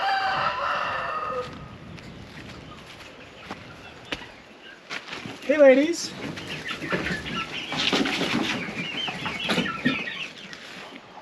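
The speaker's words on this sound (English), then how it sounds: "we got our little bitty young chicks in here" Little young chicks and bigger chickens clucking and peeping in a coop, with a rooster's crow rising briefly among them; a person speaks a short greeting over the birds.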